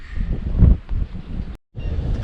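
Strong wind buffets a camera microphone on a cliff on Favignana Island, coming in rough, low gusts with a brief dropout of sound near the end.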